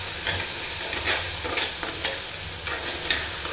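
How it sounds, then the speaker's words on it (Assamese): Potatoes and cane shoots seasoned with salt and turmeric are stirred and fried in a pan over a low gas flame. A steady soft sizzle runs under repeated scraping strokes of a spatula, with no voices. "আলু আৰু বেত গাজখিনি সিজি যোৱালৈকে লৰাই লৰাই ভাজি থাকিব"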